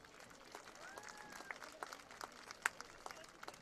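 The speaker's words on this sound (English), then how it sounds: "Please give our varsity football cheerleaders a round of applause." Applause greets varsity football cheerleaders at a Bacon County Red Raiders versus Brantley County High game. A distant crowd claps steadily for a few seconds, with scattered sharper claps and faint cheers.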